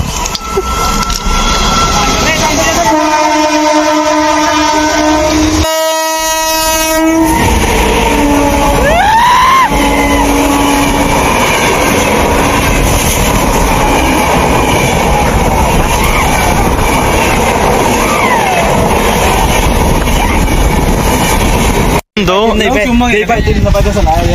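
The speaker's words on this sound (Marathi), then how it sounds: "ती ट्रेन तिकडे चालला" A passenger train on a Mumbai trip rumbles loudly past and close by, with a sustained droning horn-like tone and rattling wheels. Several people talk over it throughout.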